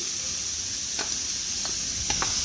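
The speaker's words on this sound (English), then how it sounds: "So I'm just going to allow the onions to get cooked completely, or just about completely cooked." Chopped onions and minced green onion sizzle in a pan, a steady close hiss with a few soft stirring scrapes and no talk.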